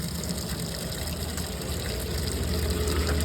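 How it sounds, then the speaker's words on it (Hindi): Steady gush of water pouring from a coin-operated water dispensing machine dispensing 20 litres, a continuous loud rushing hiss with a low pump-like hum underneath, unbroken throughout. "पानी भी निकल रहा है भाई।"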